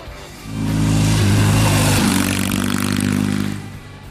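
A 1974 Norton Commando 850 motorcycle engine rumbles up close, a deep throbbing idle rising briefly in revs for a few seconds before fading away.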